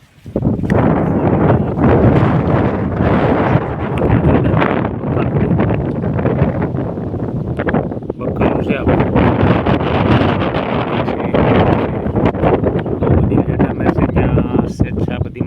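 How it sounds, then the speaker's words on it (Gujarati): Powerful gusts of wind over a farm field of pigeon pea and guar roar across the microphone almost nonstop, a loud, rumbling rush that dips briefly midway before surging again. "આ રીતે પવન છે આ બધા પડી ગયા"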